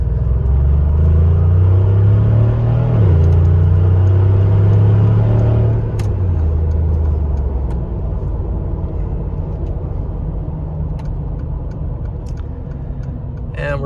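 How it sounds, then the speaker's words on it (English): A Mercedes G550 4x4 Squared G-Wagon cruises on the highway, its loud, steady engine drone rising in pitch through gear changes, with a broadband road and wind roar that settles into a constant rumble. "you can see on the highway this thing running and driving and shifting through all the gears"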